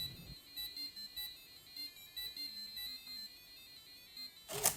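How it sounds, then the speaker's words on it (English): Prototype radiation monitor alarm sounding at a gate checkpoint: a steady electronic tone with regular repeating beeps over about five seconds, ending in a louder burst. "When a threshold is violated, the status will change to red, an alarm will sound, and the gate will close."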